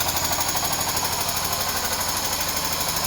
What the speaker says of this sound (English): Listening that the pump isn't overworking.